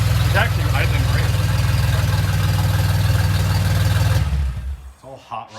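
A propane-powered DeLorean engine idles with a steady low rumble, then it is shut off and winds down, leaving quieter shuffling sounds.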